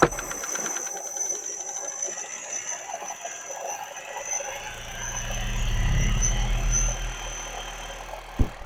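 A 12V car alternator converted into a brushless motor runs at high speed, a hissing whine with a steady high tone and rattling texture, close by, with a low rumble swelling midway and a sharp knock at the end.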